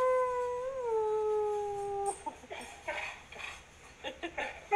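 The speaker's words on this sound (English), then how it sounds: "I was trying to teach my stepsister's dog how to howl." A dog howls in long, rising and wavering tones for about two seconds, close and fairly loud, before the sound breaks into scattered short yips and bursts of noise.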